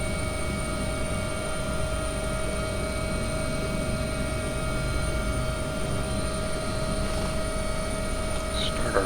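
An AW139 helicopter's engines run in a flight simulator video game, producing a steady, continuous turbine drone and whine with a constant high tone that holds at even loudness throughout.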